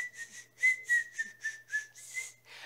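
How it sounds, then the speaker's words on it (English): A person whistles through their bottom teeth, a steady, bright tone pulsed into a quick rhythmic series of about eight notes, close and clear with no talking. "I can whistle through my bottom teeth."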